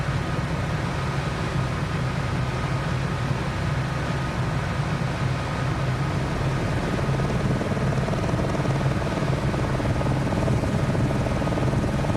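Helicopter in the Microsoft Flight Simulator 2020 game flying along a coast, a continuous loud rotor and turbine drone with steady broadband rush and a low throbbing hum, unbroken for the whole stretch.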